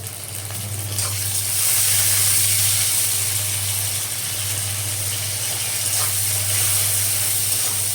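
Chopped tomatoes hit a pan of frying onions, cooking a dana moong tadka, giving a steady, close broadband sizzle and hiss with a low constant hum underneath for the whole stretch.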